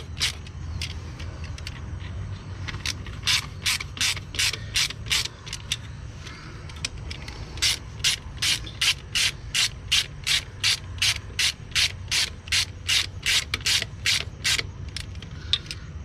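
A hand ratchet clicks in rapid repeated bursts while tightening bolts on the hub cap of a Benson 524 trailer axle, loud and close, with short pauses between strokes.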